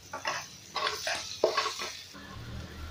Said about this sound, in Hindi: टमाटोज डाल दूंगी।